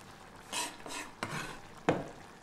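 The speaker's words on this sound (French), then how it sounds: "Grossièrement, je vais mélanger ce persil" Chopped parsley being mixed by hand into meat for a stuffed-tomato filling makes a few soft, wet squelching and scraping strokes, quiet and close, ending in one sharper knock against the bowl.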